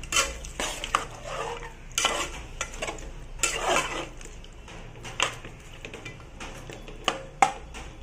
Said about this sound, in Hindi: अभी हम गोश्त को मसालों में अच्छी तरह से पका लेंगे।